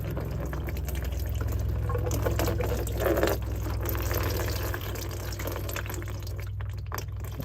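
Coolant drains from a disconnected oil cooler hose on a 2000 Ford Excursion with a 6.8L V-10, a steady close liquid pour and trickle over a constant low hum, continuous for several seconds.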